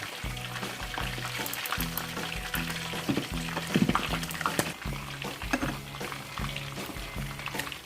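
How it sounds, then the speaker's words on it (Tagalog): Crispy pata, a whole pork leg, deep frying in hot oil with a steady, dense sizzle and crackle throughout, plus occasional louder pops and a few stirring clatters. "we will fry this again for about 10 minutes"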